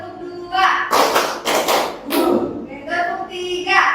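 Adults in a teacher-led session clap a short rhythmic pattern, a few claps in quick succession, with voices talking around them.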